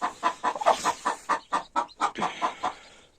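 A hen clucks in a rhythmic series of about a dozen close, loud calls while laying an egg, slowing and fading toward the end.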